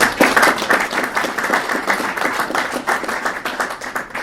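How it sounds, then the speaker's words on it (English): A crowd at a community town hall claps in a steady, dense round of applause, moderately loud and continuous for a few seconds with no talking over it. "you all deserve a round of applause"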